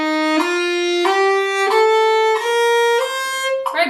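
A solo violin plays an ascending scale in three-note slurs at a steady 92 bpm for an all-state orchestra audition, with smooth connected notes grouped in threes, close and clear with no talking.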